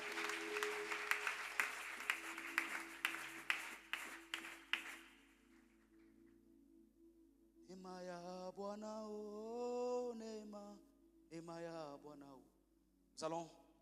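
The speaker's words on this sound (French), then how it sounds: "Acclamons le Seigneur très fort." A church congregation at worship applauds together, a dense steady clapping that fades out, followed by singing voices.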